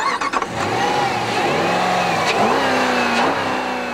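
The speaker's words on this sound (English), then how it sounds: "Along with instantaneous throttle response comes one of the meanest exhaust notes around." A 2005 Jeep with a 5.7-litre Hemi V8 accelerating hard, the close, loud exhaust note climbing steadily in pitch after a brief burst of clicks at the start.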